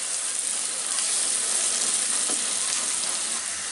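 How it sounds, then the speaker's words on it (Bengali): Onions and mustard seeds fry in a pan for a sweet corn curry, giving a steady, dense, close sizzle that stays loud and even from start to finish with no talking. "এখন এটাকে হালকা করে একটু ভেজে নিব, পেঁয়াজের পাশটা হালকা একটু লাল হওয়া পর্যন্ত"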